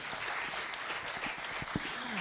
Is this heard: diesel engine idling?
no